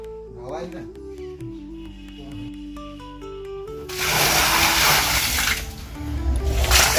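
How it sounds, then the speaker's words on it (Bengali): Water poured out of a bucket on a house under construction: a loud, broad gushing splash begins partway through and follows quieter tonal sounds. "এক বালতি জল একবার ঢেলে দিলেই শেষ হয়ে যায় না"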